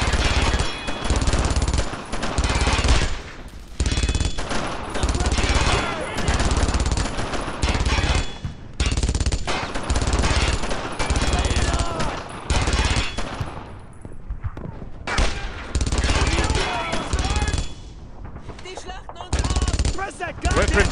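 Enemy machine gun fire in the World War II shooter Brothers in Arms, loud sustained bursts of rapid automatic shots broken by brief pauses, with occasional battlefield noise between volleys.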